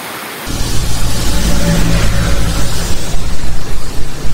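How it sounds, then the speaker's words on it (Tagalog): Heavy rain falls during a bicycle ride near Sampaloc Lake, coming in after a brief quiet start as a loud, dense, steady roar that continues to the end. "Patila lang kami ng ulan."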